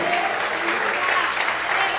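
Steady applause from a church congregation at a morning service fills the space, dense and continuous clapping at moderate loudness with no break.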